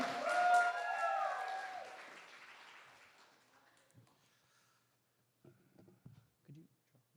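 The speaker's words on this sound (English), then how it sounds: "And keep on clapping for Poet B, Fire." An audience at a poetry slam festival round claps and cheers for a poet, loud at first with whoops, then fading to near silence, followed by a few faint sounds.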